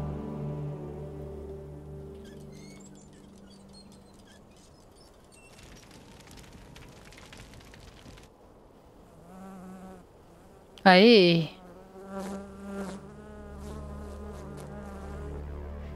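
A wasp buzzes in the video game Dead Rising 3, its drone rising and falling among other game sounds, with a brief spoken exclamation partway through.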